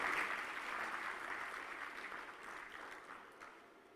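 Steady applause from a conference audience for the keynote speaker at the Connected Africa Summit opening ceremony, a dense continuous clapping that slowly fades over a few seconds.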